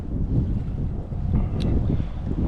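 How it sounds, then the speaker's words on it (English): Strong wind buffets the microphone outdoors on the Maumee River, making a continuous loud low rumble that swells and gusts, with a brief higher whistle midway. "Oh, that wind."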